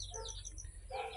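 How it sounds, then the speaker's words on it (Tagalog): A pet bird kept in a small backyard beside rabbit hutches chirps in a few quick, bright bursts, close by and fairly clear over a low background hum. "ito po, ibon, may alaga rin po tayong ibon"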